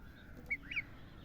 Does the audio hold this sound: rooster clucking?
yes